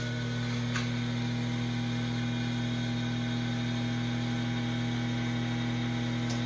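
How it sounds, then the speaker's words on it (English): A vacuum pump runs with a 3-gallon chamber accessory attached at the accessory port, giving a steady, loud, unbroken mechanical hum with a constant low drone and no talk. "and turn on your pump."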